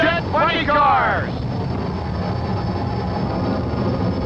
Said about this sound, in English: The track lights have been turned off for the starting line firefight between the Stroh's Jet Funny Cars.